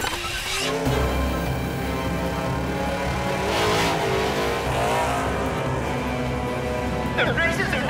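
Cartoon race cars roaring through the final lap of a grand prix, engines buzzing loudly and steadily with whooshes as cars pass, mixed with background music and brief voices.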